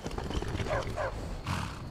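A horse in the video game Skyrim neighs in short whinnying bursts while hooves clip-clop underneath, fairly close over a low ambient background.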